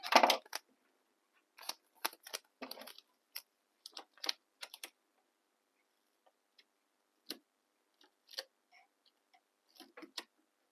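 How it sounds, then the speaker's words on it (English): Scissors snip through fabric in a series of short, crisp cuts, some quick clusters and some isolated, with quiet pauses between. "trying to cut it so that I can go right across two of them"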